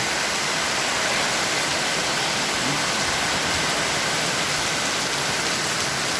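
Dense, steady roar of heavy rain pouring down in Dingle, Iloilo, Philippines, loud and unbroken throughout with no other sounds standing out.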